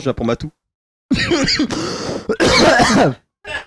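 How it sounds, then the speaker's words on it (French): A person coughs or clears their throat once amid French conversation between several people, a short rough burst between spoken phrases. "J'ai toussé."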